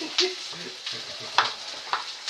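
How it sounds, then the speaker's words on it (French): Onion fries in a pan for a sausage and tomato stew, giving a soft continuous sizzle with brief crackling spurts and faint murmured voices underneath. "Moi j'ai entendu le frisson de l'oignon"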